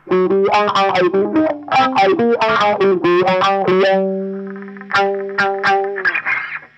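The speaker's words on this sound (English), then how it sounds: "There's also a bit of wah pedal action going on there." Distorted electric guitar plays a choppy riff, the tone sweeping and vowel-like as a wah pedal rocks, with ringing held notes and pauses.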